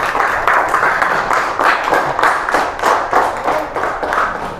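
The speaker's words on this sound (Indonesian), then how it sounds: "Tepuk tangan untuk kelompok 3." A classroom of fourth-grade students applauds for a presenting group, with a steady run of dense, close hand claps that swells and dips over several seconds.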